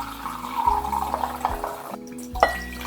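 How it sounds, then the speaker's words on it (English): Filtered water runs from a tap into cake batter in a kitchen, a steady close trickle and gurgle that shifts in pitch, with a short break before it resumes. "Then we add 1 cup of filtered water"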